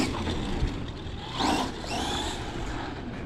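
An Arrma Gorgon RC monster truck running on a 2S battery gives a steady electric motor whine with a brief rising surge mid-way, heard up close against broadband outdoor noise.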